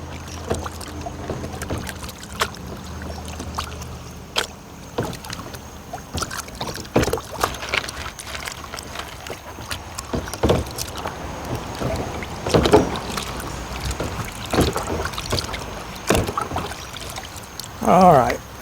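An arcade circuit card cage from a Bally Midway card rack system is rinsed in a bath of distilled water, giving steady sloshing and trickling water sounds with a few louder splashes throughout.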